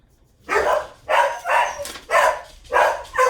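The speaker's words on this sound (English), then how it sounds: "the dog started barking" A dog barks indoors in a run of six loud, evenly spaced barks, close to the microphone with no talk over them.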